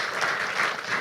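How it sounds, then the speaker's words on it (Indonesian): Audience applause at a digital literacy seminar event, a brief burst of dense clapping from a seated crowd heard steadily through the short moment. "Boleh minta tepuk tangannya Bapak Ibu sekalian?"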